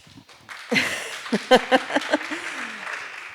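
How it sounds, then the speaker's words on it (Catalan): A small audience at a panel discussion claps briefly, a short burst of scattered claps that builds, peaks with a few distinct hand strikes and then fades, with murmuring underneath. "Els aplaudiments són pel que ha dit o perquè ja n'heu tingut prou?"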